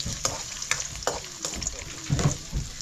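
Ginger frying in a pan, a soft sizzle with scattered clinks and scraping stirs, fairly close and moderately quiet.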